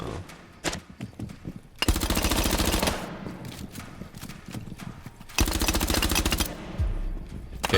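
Automatic gunfire in the video game Rainbow Six Siege, two long, loud sustained bursts of rapid shots separated by quieter game sounds and a few single shots.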